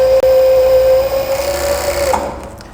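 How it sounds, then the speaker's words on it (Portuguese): An overlock machine finishes a trouser seam with a continuous, close, steady motor hum and rapid stitching buzz that eases off toward the end. "agora nós vamos voltar para o overlock e fazer o acabamento"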